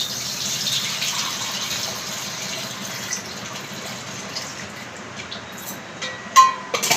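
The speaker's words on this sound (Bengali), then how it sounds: "আর এখন আমি চালটা ধুচ্ছি।" Raw rice is rinsed by hand in water in a home kitchen while a vegetarian lunch is prepared, giving a steady wet swishing and gurgling throughout, with a few sharper splashes and clinks near the end and no talk.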